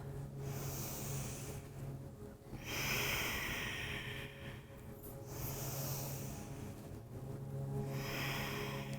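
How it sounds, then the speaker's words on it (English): Slow, deep breaths drawn in and out through the nose during a breathing and stretching session, each breath a soft, airy hiss that comes about every two to three seconds, close and quiet. "Continuing, if it's available, to deepen the breath through the nose"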